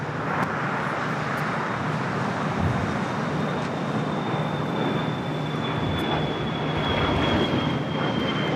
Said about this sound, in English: Citation 10 taking off to Oakland.